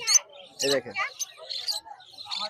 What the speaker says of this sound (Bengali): চমৎকার কিছু পাখি নিয়ে এসেছি যেই পাখি মার্কেটে নাই